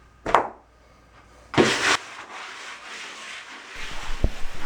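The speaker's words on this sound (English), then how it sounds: "what I use is a old wooden trowel to press the Ditra into the thinset" An old wooden trowel pressing Ditra membrane into thinset on a floor, giving two short, close scraping rubs, then quieter rubbing and a light tap.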